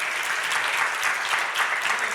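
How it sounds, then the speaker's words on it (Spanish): A church congregation applauds steadily, a dense even wash of many hands clapping, sustained and fairly loud with no pauses. "le damos un aplauso a nuestro Salvador Jesucristo"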